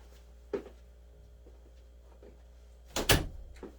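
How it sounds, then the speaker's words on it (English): A bedroom door swings shut with a single solid thud and latch click near the end, preceded by a faint knock or handling bump, in an otherwise quiet room. "close my door so that it's dark in here"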